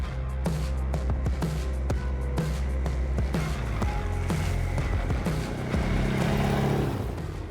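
The engine of a Sharmax 620 ATV quad runs at a steady, loud, close drone, with regular clattering ticks through it and a slight rise in revs toward the end.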